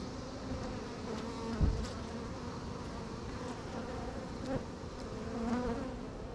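Bees swarm around an open beehive, a dense, continuous buzz filling the space, loud and close, with individual insects flying past now and then and no talking.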